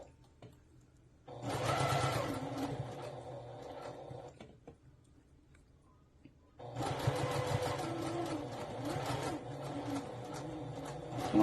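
Sewing machine stitching gathered fabric along a seamline, whirring steadily in two close runs separated by a pause, with a light mechanical rattle throughout.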